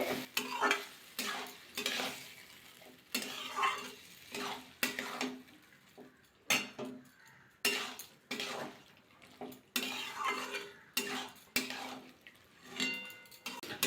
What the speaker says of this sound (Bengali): ছোলার ডালটা দিয়ে দেব ভালো করে মিশিয়ে নিতে হবে